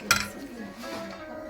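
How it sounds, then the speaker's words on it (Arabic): A spoon clinks against a pot once, then soft stirring follows as grated onions are worked into an onion sauce for chicken, with a faint low rumble of the stove underneath. "كنبداو نحركو غير بشويه"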